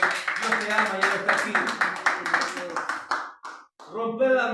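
Church congregation claps in quick, steady rhythm, loud and close, with voices sounding underneath; the beat briefly drops out and then picks up again near the end.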